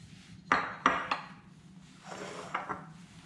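Tomatoes dropped into a bowl with onion while making a fresh recipe with jalapenos, cilantro and lime juice: a few sharp, close clinks and clatters of produce and utensils against dishware, then softer scraping knocks.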